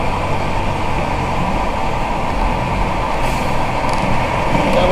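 A truck's air brake system vents air from the line amid steady road and engine rumble heard from inside a vehicle in wet traffic, with a brief hiss of released air partway through.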